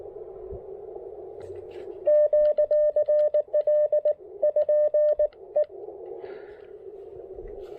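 An Icom IC-705 radio's antenna tuner working with a Chameleon Tactical Delta Loop antenna, giving a clear, steady tone broken into a rapid series of beeps for a few seconds over a soft background hiss.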